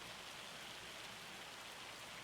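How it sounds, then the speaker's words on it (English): Hail and rain pour down steadily during a hailstorm in Farming Simulator 25, a dense, even hiss of drops drumming on surfaces with no voices. "I think we'll just stand under the shelter and just watch the hailstorm"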